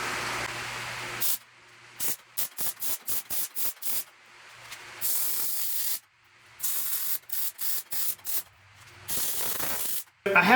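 Tack welding a metal plate onto a go-kart rock crawler built from a Jeep Wrangler, with loud bursts of crackling, hissing arc noise separated by brief silences, short rapid tacks in the middle and longer runs at either end.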